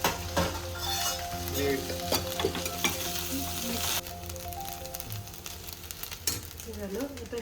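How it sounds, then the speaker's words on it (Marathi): Rice for Mexican rice fries in a pan with a loud, close sizzle while a utensil scrapes and stirs it, metal clinks scattered through and a brief voice at the end. "कुकिंग चालू आहे आणि इकडं राईस फ्राय होत आहे"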